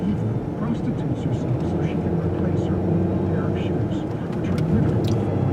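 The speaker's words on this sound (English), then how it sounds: "And there's a plane landing." An airplane coming in to land near a cruise ship port, a broad steady roar of engine noise rising and falling over outdoor ambience, fairly close.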